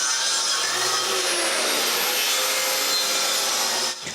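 A saw cuts through a piece of wood for a closed bookcase with continuous, close rasping strokes that stop abruptly near the end.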